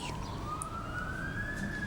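An ambulance siren in a British police drama scene, a steady wail slowly rising in pitch, moderately loud over a dense low background rumble, with no talking.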